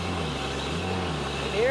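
A 2000 Dodge Cummins diesel pickup with 165k miles and a slipping transmission drones steadily up close, then a rising whine climbs sharply at the very end.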